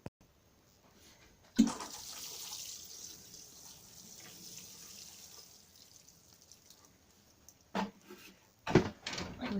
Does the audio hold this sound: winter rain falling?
no